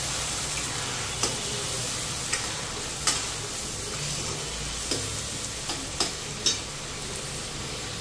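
Potato, onion and green chilli sizzle in a hot pan while a utensil stirs them, giving a continuous close frying hiss with occasional soft scraping clicks.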